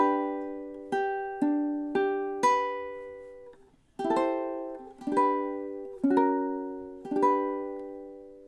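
A solo ukulele plays the opening two measures of a song in time. There are about nine crisp, close strums in a steady beat, each chord ringing and decaying, with a short pause midway before the second measure.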